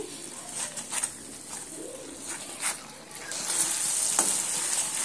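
Fried potatoes and eggs get stirred gently into frying masala for potato-egg dum biryani, a soft sizzle with light spatula scrapes and a louder hiss building near the end, with faint background sounds around it.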